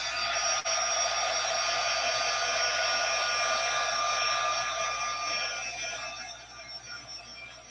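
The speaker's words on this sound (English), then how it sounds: "So let me go ahead and dry that." Hair dryer blowing steadily to dry a mixed media artwork, a loud continuous whir with a brief dip near the start, easing slightly toward the end.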